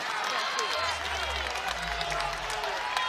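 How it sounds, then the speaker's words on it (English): A college wrestling crowd in Knights Hall roars steadily during the final minute of an Iowa vs Bellarmine match, a dense continuous wash of cheering and noise with a commentator's voice running over it. "crowd's getting into it now. We got something for cheerhouse. This Knights Hall can get loud."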